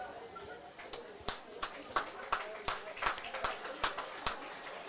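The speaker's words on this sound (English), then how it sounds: "Let's once again honor them with a nice round of applause." Applause from the crowd at an American Legion baseball game, Wahpeton Post 20 versus Breckenridge Post 53 on July 4th: sparse, evenly spaced hand claps, fairly faint and distant, with no talking over them.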